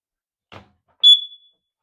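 A hard-wired smoke and carbon monoxide detector lets out a single sharp, high electronic beep close by, preceded by a brief soft click or rustle in a quiet room.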